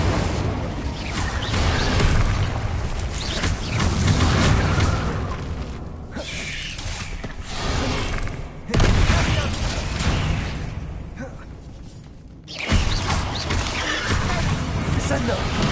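Fire-blast explosion spell cast in a Hogwarts wizarding video game, a string of loud booming bursts and whooshes across the span with brief quieter gaps, mixed with game effects.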